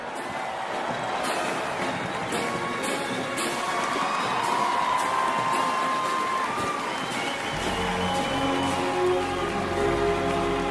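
A large parade crowd applauds and cheers a military band at a U.S. Army 250th anniversary military parade, the broad steady clapping and whoops sustained throughout with low outdoor rumble joining near the end.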